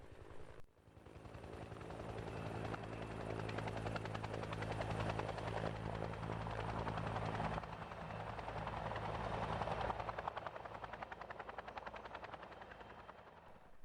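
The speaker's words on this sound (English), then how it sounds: "A helicopter, carrying not weapons, but water." A firefighting helicopter flying during wildfire operations, its rotor beating in a loud, continuous rhythmic chop that holds steady for the whole stretch, swelling slightly at times, with no voices.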